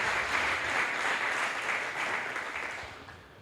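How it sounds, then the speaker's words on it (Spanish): A congregation applauds in church during a Spanish-language sermon, a dense, steady wash of many hands clapping at moderate distance that gradually tapers off. "¿No le da un aplauso al Señor por eso?"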